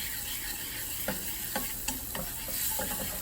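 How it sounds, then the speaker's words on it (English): Two tablespoons of oil with two cloves of garlic and a shallot sautéing in a pan, a steady soft sizzle with scattered clicks and scrapes of stirring, close and alone. "And you saute it until aromatic."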